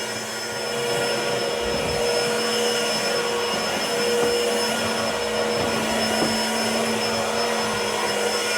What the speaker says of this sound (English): Now I can just mop my whole house. It gets right up to the corners.